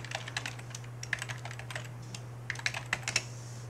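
Keys clatter on a computer keyboard in quick irregular bursts while text is entered during graphic design work, close and clear over a steady low electrical hum.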